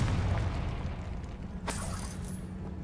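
In the Hogwarts Legacy video game, the Confringo fire spell erupts as a single sudden explosive burst with a bright crackling tail, rising out of a low, steady game background.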